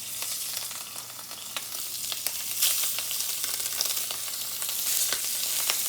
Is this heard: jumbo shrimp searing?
yes